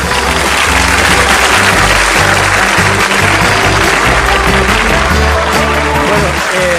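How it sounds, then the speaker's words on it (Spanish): Loud, dense audience applause filling the whole stretch without letup, a steady wash of many hands clapping at close range beneath a low background hum. "esto se merece un aplauso"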